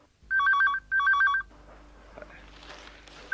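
An electronic telephone rings in two loud, sharply trilling bursts close by, then cuts off to a quiet room with faint rustling.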